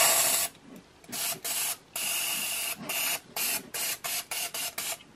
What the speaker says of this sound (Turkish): Kar spreyi evet.